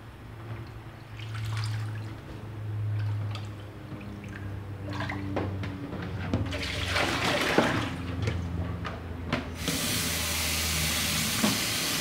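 Asian pennywort greens being rinsed by hand in a basin of water, after a salt-water soak. Continuous sloshing and trickling runs close by for about twelve seconds, with scattered drips and splashes and no talking.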